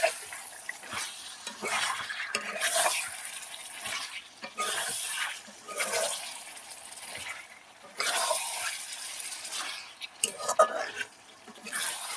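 Beef is stirred and fried in a pan on the stove, producing scraping stirs and soft sizzling in uneven bursts, with clinks of a utensil against the pot and a person talking in between.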